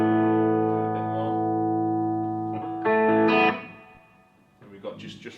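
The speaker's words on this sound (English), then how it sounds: "turn up just the reverb" An Eventide H9 MAX pedal plays sustained guitar chords through its reverb effect, ringing tones swelling and decaying with a lingering wash, followed by a softer strummed passage.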